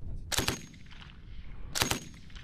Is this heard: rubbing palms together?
no